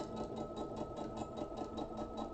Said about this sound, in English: So I'm just sewing down the drawn line, but just in literally a needle's width this side.